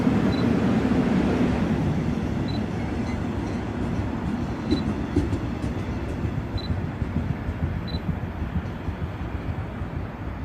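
A Suin-Bundang Line subway train rumbles past Handaeam Station with steady wheel noise and clattering, sharp faint clicks and high squeals punctuating the continuous roar.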